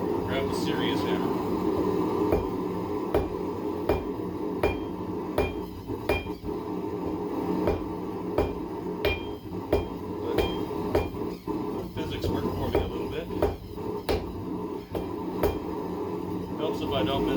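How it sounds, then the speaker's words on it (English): Sharp metallic hammer blows ring out at an irregular, steady pace, striking hot metal on an anvil, close and loud over a low background hum. "Grab the serious hammer."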